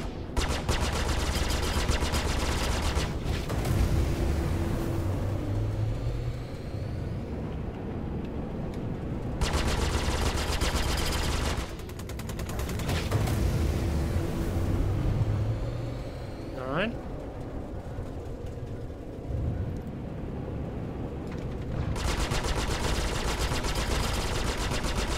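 Particle guns fire in the Star Citizen space game, loud bursts of weapon fire recurring over a constant engine rumble, with distinct blasts spread across the stretch.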